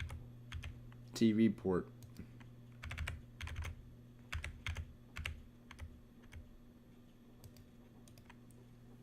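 Rapid clickety-clack typing on a computer keyboard fills the clip in uneven bursts of keystrokes, fairly close, with a brief spoken remark near the start and a steady low hum underneath.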